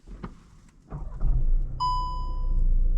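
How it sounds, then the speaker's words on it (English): A Volkswagen Passat B9 starts with a low engine rumble, and a clear electronic warning chime sounds partway through and holds as a steady tone over the idling engine. "let me quickly start the car and you'll notice those issues"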